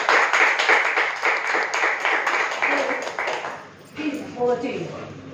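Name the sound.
loud clapping to welcome a trainer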